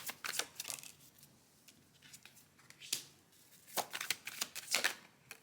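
Tarot cards are shuffled and drawn in quiet, uneven bursts of riffling and flicking, with soft pauses between.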